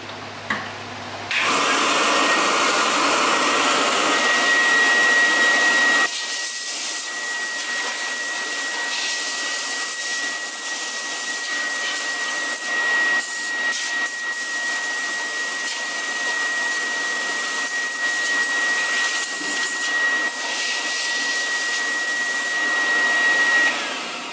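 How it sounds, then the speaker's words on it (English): A Tristar compact canister vacuum cleaner runs steadily while being blown out, a loud continuous whine and airy rush holding for over twenty seconds, with a thin high tone and a brief starting surge at the beginning. "So that is how we blow out vacuum cleaners here."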